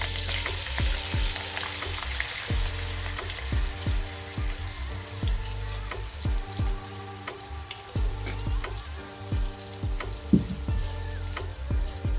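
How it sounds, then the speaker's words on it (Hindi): Tomato paste frying in a pan for a spaghetti and tuna tomato sauce, with a steady close sizzle and crackle, intermittent stirring clinks and scrapes throughout, no talking. "अब डालेंगे टमाटर का पेस्ट"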